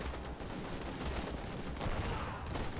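Scattered rifle and machine-gun fire crackles through a battle in the strategy game Call to Arms, a dense, fairly distant fusillade of overlapping shots with no single burst standing out.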